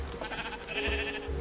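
Sheep bleat in Minecraft, with several overlapping in-game bleats in quick succession, steady and fairly close, with no talk over them.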